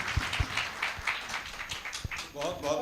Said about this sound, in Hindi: तालियों के साथ हम लोग सर का स्वागत करते हैं।